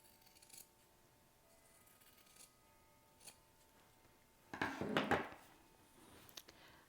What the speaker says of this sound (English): I'm going to trim away about half of the seam allowance.